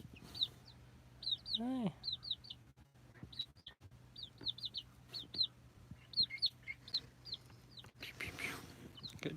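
Chickens clucking and chirping close by in a backyard, with short repeated clucks and a rising squawk early on, while a person speaks softly over them.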